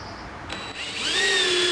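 A power drill bores a pilot hole into a wooden cabin frame, with a short start and then a rising whine that climbs in pitch and holds, close and fairly loud with no talk.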